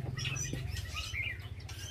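Baby hoopoe chicks chirp in quick, high, overlapping cheeps close by, with a low rumbling background underneath and no talking.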